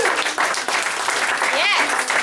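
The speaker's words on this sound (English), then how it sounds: "can we all give Pat Cash a round of applause?" Audience applause for a spoken word poet at a London spoken word night, a dense, steady wash of clapping filling the whole moment with a few cheers mixed in.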